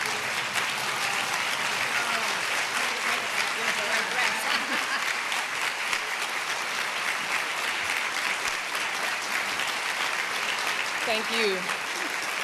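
Sustained audience applause welcoming the First Lady at an International Women of Courage honors event, steady loud clapping filling the whole stretch, with a voice briefly speaking near the end.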